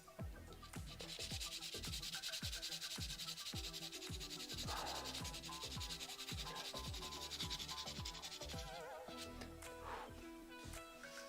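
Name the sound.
sharpening a drawing pencil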